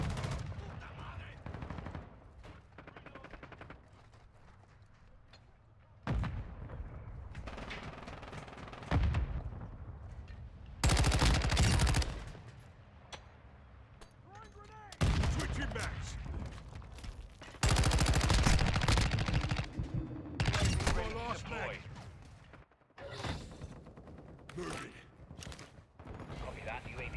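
Bursts of automatic gunfire and heavy weapon blasts from a Call of Duty: Modern Warfare 2 team deathmatch, loud clustered volleys alternating with quieter stretches, with shouted voices mixed in.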